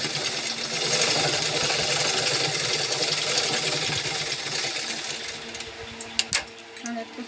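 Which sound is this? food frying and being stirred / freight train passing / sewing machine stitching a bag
sewing machine stitching a bag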